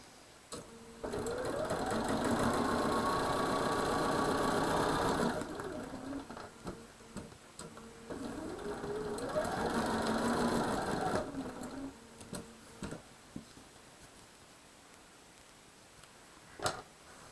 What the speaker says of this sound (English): going to sew it up that way